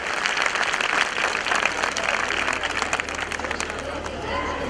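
An audience claps for a group of young children at a school event, a dense, lively round of applause with crowd chatter and voices mingled throughout.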